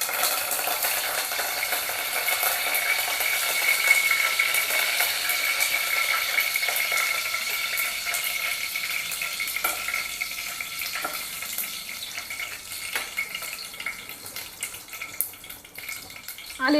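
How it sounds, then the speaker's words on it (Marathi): Curry leaves and a pinch of asafoetida sizzle in hot oil over a lowered gas flame for shevbhaji, a steady broadband crackle with scattered pops and clicks, fairly loud and close, no talk. "तेल गरम झालेलं आहे. कढीपत्ता घालूया आपण."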